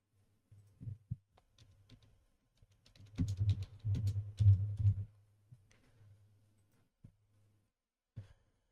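Keys clatter on a computer keyboard as code is typed, scattered taps at first, then a dense run of quick keystrokes in the middle before tapering to a few isolated presses, fairly close and quiet.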